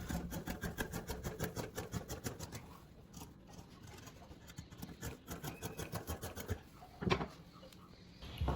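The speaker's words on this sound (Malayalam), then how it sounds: "അപ്പോൾ ഇത് നമുക്ക് കട്ട് ചെയ്തെടുക്കാം." Scissors cutting through fabric for a pair of straight-leg pants with pockets, a close, steady run of crisp snipping and rustling cloth that pauses midway before resuming, with a sharper handling knock near the end.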